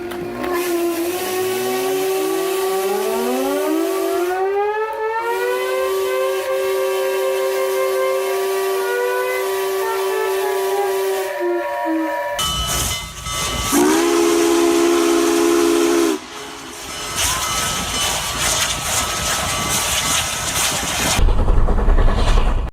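A classic steam engine whistle at Swanage Railway shrieks loudly, its pitch climbing and holding for several seconds, then after a hissing pause it sounds again in a second shorter blast amid rushing steam.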